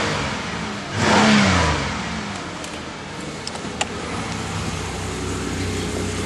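A 2008 Pontiac Grand Prix with high mileage and a slight exhaust rattle idles steadily, then revs up once and settles back to a smooth, fairly loud engine hum heard from close by.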